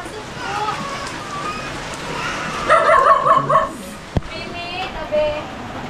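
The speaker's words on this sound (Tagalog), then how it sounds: "May aso. May aso." Several dogs barking outdoors in the rain, a cluster of sharp yelping barks in the middle and a few more later, over steady rainfall while people talk nearby.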